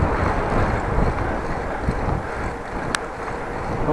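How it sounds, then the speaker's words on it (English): Strong headwind buffets the microphone of a cyclist riding over a bridge, a continuous loud roaring rush with a brief sharp click near the end. "Ah, nice headwind again"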